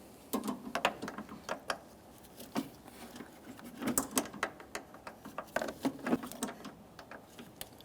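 Open-end wrench working a brake line fitting on the master cylinder of a 2014-2019 Toyota Corolla, giving close, irregular metallic clicks and ratchety taps in quick clusters with brief pauses.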